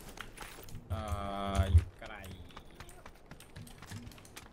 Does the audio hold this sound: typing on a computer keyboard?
yes